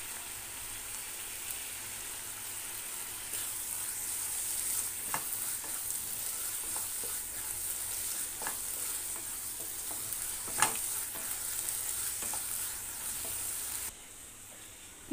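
Bottle gourd barfi mixture with dry fruits being stirred steadily in a pan, a continuous soft sizzle with scraping strokes and occasional sharper clicks of the spoon against the pan, close and moderately quiet, no talking.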